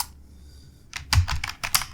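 Keys clatter on a computer keyboard as smart-contract test code is typed: a quiet pause, then a quick, uneven burst of close, crisp keystrokes with no talking.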